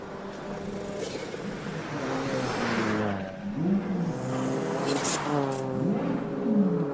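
A modified Mercedes-Benz A45 race car accelerates hard up a hillclimb course, its engine note rising through several gear changes, loud and fairly close, with a faint voice at times.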